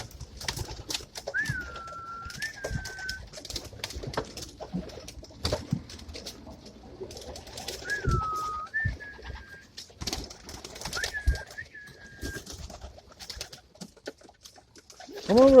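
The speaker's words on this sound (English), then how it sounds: "Here they come. Warriors, come on. Come on, beautiful birdies." Pigeons coo in a few short repeated calls amid scattered rustling and flapping while someone calls to the birds in a loft, fairly close and moderately quiet.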